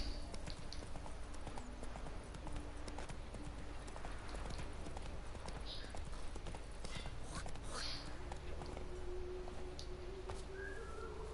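Roach, a horse in The Witcher video game, trots with steady clip-clopping hooves throughout, a continuous rhythmic patter over a constant ambient bed and faint background sounds.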